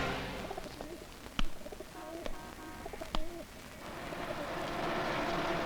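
Pigeons coo in a series of soft, rounded, repeated calls over a constant background hiss, with a few sharp clicks or knocks between them in an outdoor film scene.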